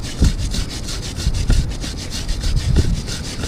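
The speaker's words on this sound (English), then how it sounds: "I can dig in a little bit more with the brush and get all the filth out of there" A brush scrubs the grime off an Aprilia Tuono motorcycle chain soaked with WD-40, making close, rhythmic back-and-forth rasping strokes with brief harder scrapes, and no talking.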